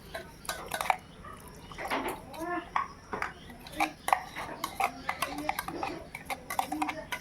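Gram flour and semolina batter being mixed in a bowl with water added bit by bit, a quick run of spoon clinks and taps against the bowl with faint speech in the background.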